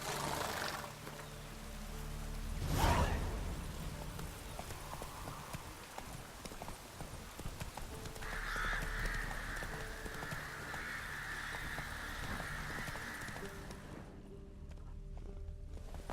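Roach, a horse in The Witcher 3, gallops with steady clip-clopping hooves against a low game ambience, with a louder thud near the start and a sustained mid tone entering later.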